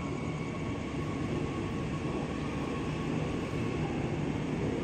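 An executive-class airport train passes through a station, a continuous even rumble and hiss holding steady throughout with no voices.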